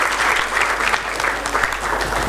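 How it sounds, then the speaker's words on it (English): Audience at a GDG Ahmedabad DevFest 2017 keynote bursts into steady, dense applause, many hands clapping together loudly and evenly for the whole stretch, with no voices rising above it. "It's a great applause for me, actually"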